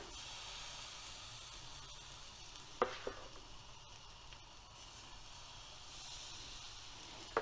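Filhos batter is spooned into a hot frying pan, giving a soft steady sizzle with a couple of brief splashing hisses as each spoonful lands.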